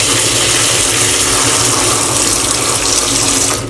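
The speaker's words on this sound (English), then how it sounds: "we're gonna fill this whole pot with water that covers all these bananas" Tap water pours steadily into a pot of green bananas for oxtail stew, a loud continuous rushing gush that runs unbroken for nearly four seconds before easing off at the end.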